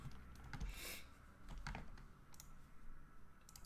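Computer keyboard typing with scattered clicks and bursts of keystrokes, close and fairly quiet, against a low background murmur.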